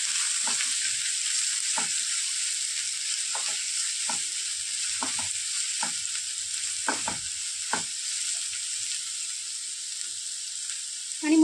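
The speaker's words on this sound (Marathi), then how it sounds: "कांदा घालते. कांदा परतून घेऊ." Sliced onion sizzling and frying in a pan for a Cassia tora leaf dish, a steady bright hiss with occasional stirring scrapes and clicks of a spoon, close and alone.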